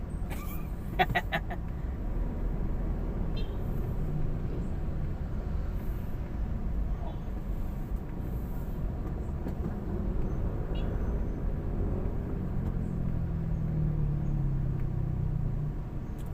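Steady low road traffic rumble surrounds a car stuck in heavy traffic near a traffic light in Las Piñas City, a continuous engine drone with a faint clatter early on and no talking.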